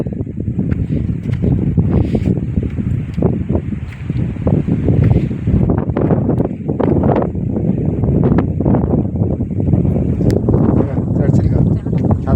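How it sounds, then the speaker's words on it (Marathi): Strong wind buffets the microphone in a steady roar high on the Asherigad fort trek, with gusts rising and falling and a voice talking over it throughout. "ते वाऱ्याचा वेग एवढा आहे की इथे कोणी सहज उडवून देऊ शकतो, एवढा इथे वारा लागतोय."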